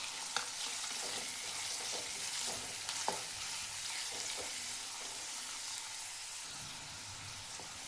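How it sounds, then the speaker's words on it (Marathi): Finely chopped onion fries in hot oil after garlic, a steady broad sizzle with occasional soft stirring clicks, close and constant throughout, no voices. "तेलामध्ये कांदा भाजून घ्यायचा आहे"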